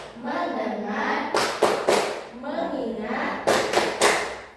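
Two short bursts of sharp claps from a classroom clap game punctuate a teacher's chanted speech, each cluster a quick rhythmic run of several hand claps, loud and close, with talking continuing between them.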